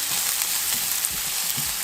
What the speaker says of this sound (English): you want to continue to saute your onions for a good 4 to 5 minutes